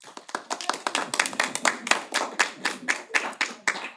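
Brief applause from a few people at a school committee meeting: sharp, close hand claps in a quick uneven rhythm, alone without talk.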